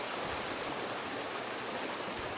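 Steady broadband rush of flowing water in a lazy river current, continuous and close, with no voices over it.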